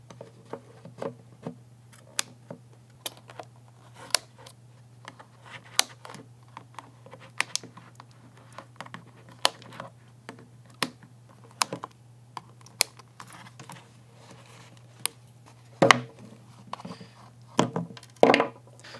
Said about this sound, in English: So it's cutting pretty easily. The plastic is really thin.